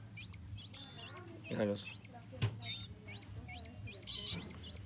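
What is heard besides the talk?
mockingbirds and chachalaca birds calling on a ranch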